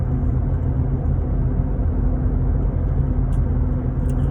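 A steady low rumble of a car driving along a road, heard from inside as a constant loud drone with road noise and no speech.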